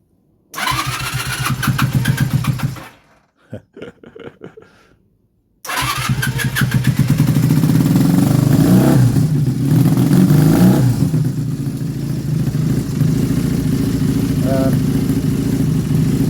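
A Honda Superdream motorcycle engine cranks over and dies after a few seconds. After a brief sputter it fires up again and settles into a loud, close, sustained running note with some throttle blips.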